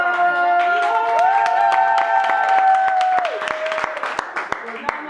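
Audience applause at a French stage show, used as a clap-meter vote: steady crowd clapping with cheers and sustained whistling or shouting tones over it, tapering off into scattered claps toward the end.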